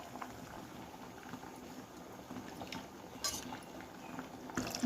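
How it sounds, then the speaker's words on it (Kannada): A tamarind curry with tempering bubbles in a pot, a faint, continuous simmering burble close by, with light clinks of utensils against metal near the end. "ಒಗ್ಗರಣೆ ಕೊಟ್ಕೊಂಡಿದ್ದೀವಲ್ಲ ಚೆನ್ನಾಗಿ ಕುದಿಸ್ಕೋಬೇಕು"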